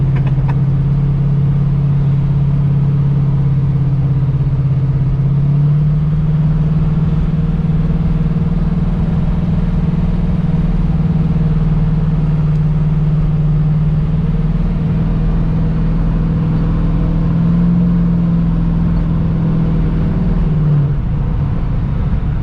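A 650hp 1971 Chevrolet Camaro split bumper with a deep, steady engine note holding at a high idle, swelling slightly in pitch partway through and dropping near the end, loud and close with no talking.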